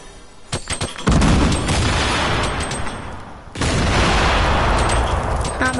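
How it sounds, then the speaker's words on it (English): Gunfire in a PS4 video game, with a dense, loud burst of shots and booms filling most of the moment after a few sharp cracks, briefly dropping before resuming. "someone's shooting at me, Joe"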